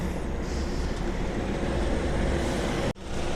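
A loaded truck towing a trailer drives through a freight gate area, producing steady broadband road and engine rumble, with a brief sharp dropout near the end.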